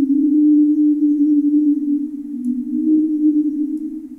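An Ableton Live feedback sound design patch with auto filter LFO modulation gives a loud, sustained, eerie tone that wavers slowly and almost sings, holding alone for about four seconds.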